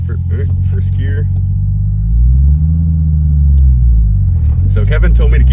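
A Toyota Supra engine pulls away in first gear, a loud, close rumble that swells in pitch and volume as it accelerates, with someone talking briefly before and after the pull.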